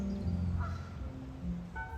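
Geese honk in short harsh bursts during a territorial clash with swans by a canal, several close calls overlapping in quick succession.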